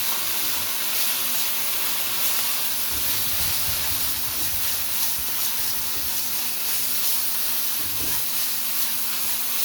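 Shredded meat hits a hot pan beside fried tofu and sizzles loudly and continuously, a dense steady hiss with bursts of steam and crackle that stays close and strong throughout.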